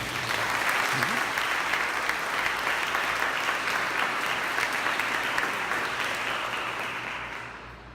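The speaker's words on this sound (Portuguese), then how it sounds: "aplauda ao Senhor." A church congregation applauds steadily in a large hall during a Portuguese-language sermon seminar, a dense sustained wash of many hands clapping that holds evenly for most of the stretch before tapering slightly at the end.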